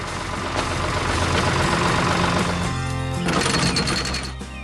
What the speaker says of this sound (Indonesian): Traktor itu sedang bekerja keras membajak tanah agar siap ditanami benih-benih yang